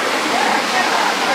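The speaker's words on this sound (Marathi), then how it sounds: "कशा आदळतात बघ ना लाटा." Sea waves crash against the fort wall at Sindhudurg, a dense, continuous roar of surging and churning water filling the short span at steady, loud strength.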